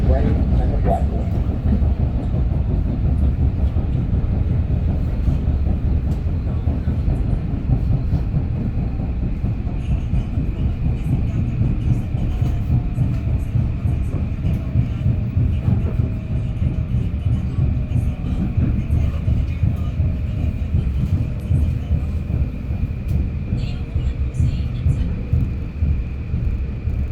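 A Metro-North commuter train rumbles steadily out of Harlem 125th Street station, a loud, continuous low roar of wheels and motors heard from inside the car, with faint squeals and rattles throughout.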